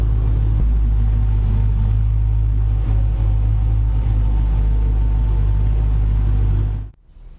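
A Dodge Challenger SRT Hellcat idles while warming up, a deep, loud, steady engine rumble held for several seconds before cutting off near the end.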